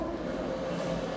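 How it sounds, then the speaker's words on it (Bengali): A passing train gives a faint, steady low rumble with a soft hum of rolling wheels. It is heard from a distance behind an indoor kitchen setting, with no talking over it. "ট্রেন যাচ্ছে।"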